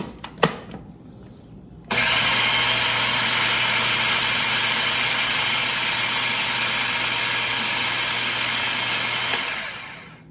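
A kitchen machine blending pesto with red pepper flakes starts abruptly after a couple of light knocks, then runs as a loud, steady whirring drone for about eight seconds before easing off, with no talk over it.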